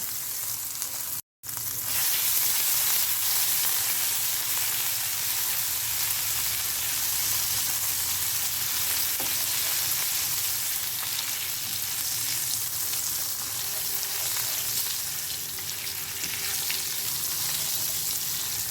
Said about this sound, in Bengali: মাছ ভাজা তেলের মধ্যে আমি ফোড়নে দিয়ে দেবো একটুখানি কালো জিরে আর কয়েকটা কাঁচা লঙ্কা